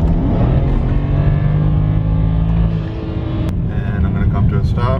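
A misfiring car engine revs loudly to about 4,000 RPM and holds high, then eases off as the revs drop to a rougher, uneven, choppy rumble near the end.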